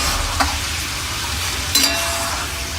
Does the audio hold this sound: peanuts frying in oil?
yes